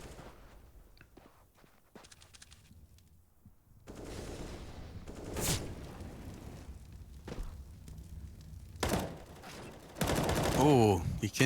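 Wall-bang gunfire fired through doors in a CS:GO pro match on Dust2, heard as several loud sharp shots and bursts amid footsteps and game ambience, with a dense burst of fire near the end.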